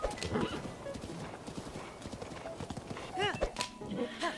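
A horse clip-clops steadily with rapid hoofbeats, then lets out a short whinny, with someone speaking briefly over it.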